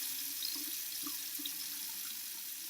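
A bathroom tap runs steadily into a sink for face washing, a constant close rush of water with faint splashes and drips.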